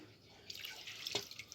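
Half a glass of water poured into a cooking pot while making chicken with raisins and onion, a short, soft splashing trickle close by.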